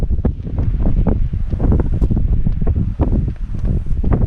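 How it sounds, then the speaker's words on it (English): Strong wind buffets the microphone at a hilltop while cycling in Greece, a constant loud roar with gusty rumbling surges throughout and no voices. "At the top of a hill and it's super windy up here."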